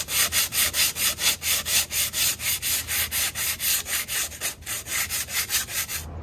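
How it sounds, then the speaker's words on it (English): Hand sanding on the body of a Second Gen Dodge Ram truck, heard up close as a fast, even run of rasping back-and-forth strokes, about three per second, loud and steady with no voices. "let's sand this down, get that all nice and smooth"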